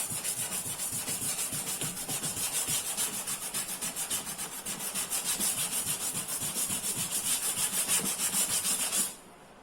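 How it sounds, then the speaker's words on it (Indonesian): Sandpaper scrapes across a cracked plastic water bucket in quick, steady back-and-forth strokes, a continuous close rasping that stops abruptly at the end. "Lalu kita amplas yang bagian dalam gitu."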